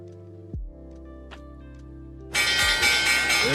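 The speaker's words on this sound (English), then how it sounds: "There's the bell." A stock market opening bell rings out loudly at the market open, a sustained bright clang breaking in after a quieter stretch of low hum and a brief thump, then continuing as a dense metallic ringing.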